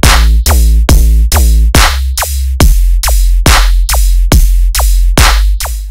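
Future riddim synth bass layered with white noise and heavy distortion, hammering in a fast regular pattern of about a dozen loud, gritty wobbling hits with deep sub-bass, alone and very close.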